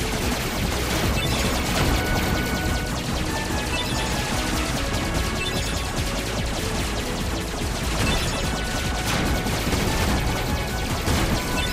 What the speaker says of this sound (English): Takes a lot of gunfire.